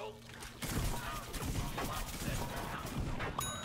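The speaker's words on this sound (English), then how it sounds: "I feel like more of these explosions should actually be hitting, but they're not." Explosions in a plant-themed video game, a rapid barrage of bursts and crashes that kicks in after a quieter start and keeps up in dense, overlapping blasts, with game sounds and effects layered over one another.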